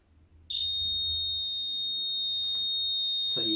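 A small circuit buzzer completed through an aluminium foil conductor gives a sudden, loud, continuous high-pitched electronic tone that holds steady after switching on, with a brief clatter near the end.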